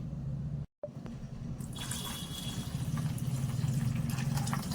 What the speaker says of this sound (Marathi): आणि मी पाणी टाकणार आहे